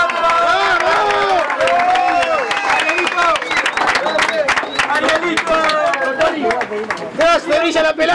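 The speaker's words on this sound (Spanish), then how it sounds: "¡Un aplauso para Vizco!" A crowd at a freestyle rap battle final claps and cheers for the champion, loud and close, with shouting voices and chatter mixed through the dense clapping.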